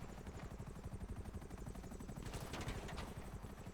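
Helicopter in the video game GTA 5 Online, its rotor chopping in a fast, steady pulse with a low engine drone underneath, fairly faint and continuous, with no talk over it.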